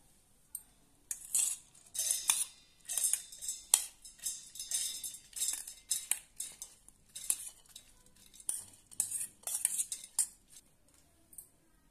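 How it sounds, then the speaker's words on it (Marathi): Moong dal pours into a mixer jar in a run of rattling, gritty bursts, close and crisp, with short pauses between the pours and no speech. "मिक्सरचं भांडं घेतलेलं आहे, त्यामध्ये आपण ही डाळ घालूया, मुगाची डाळ।"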